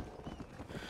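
Horse hooves clip-clop in the Red Dead Redemption 2 video game, a quick run of soft, close hoofbeats in a brief moment.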